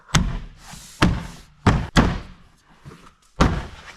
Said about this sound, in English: the door panel goes right back in